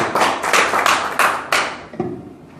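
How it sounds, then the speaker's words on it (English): A small church audience claps for a guest speaker, a short burst of scattered hand claps with a few thumps that thins out and fades near the end. "Give her a round of applause."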